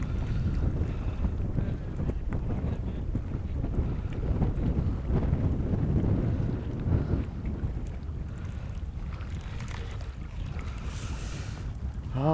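Strong wind gusts buffet the microphone outdoors on the water during bass fishing with big baits, a steady low roar of rushing air lasting throughout with no talk.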